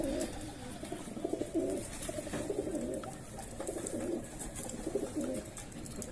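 Several pigeons coo in low, rolling, repeated phrases, overlapping close by against a faint background murmur.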